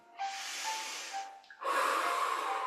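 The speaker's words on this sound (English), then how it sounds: "breathing in as you let one shoulder go up and releasing the air" Breathing during a seated qigong exercise: one long, airy inhale followed by a fuller, steady exhale, close and clear in a quiet room.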